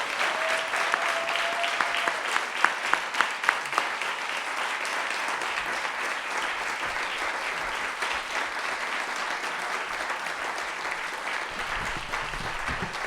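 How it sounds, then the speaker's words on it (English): A large audience at a live event gives sustained, dense applause that stays steady and loud for over ten seconds, with a few sharper claps and a brief tone early on. "Can you give this man a big, big clap?"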